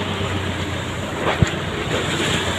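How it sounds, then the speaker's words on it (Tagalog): Large ocean waves rolling and breaking at sea, heard as a steady, loud wash of surf and wind noise from aboard a boat, with one brief thump partway through. "O, laki ng alon."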